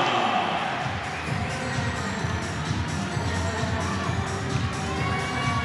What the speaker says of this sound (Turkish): alkış alıyor bu savunma